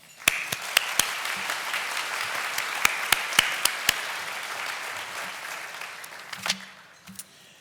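Sustained applause for honorees at a school district service pin and retirement banquet fills a large room, steady many-handed clapping with a few sharp close claps, fading out at the end.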